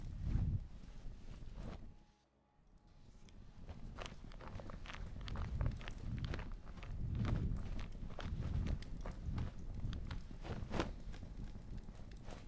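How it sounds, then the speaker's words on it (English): Foley footsteps stomped in old shoes in front of a microphone, a steady run of heavy, close thuds with a brief quiet gap early on, then continuous scuffing steps. "I stomped around in old shoes, rustled jackets, crinkled papers, and threw rocks into piles in front of my microphone"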